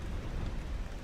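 Steady, dense rainfall hisses in a S.T.A.L.K.E.R. game with the TALKER mod, a constant wash of rain on surfaces with a low rumbling undertone and no break across the moment.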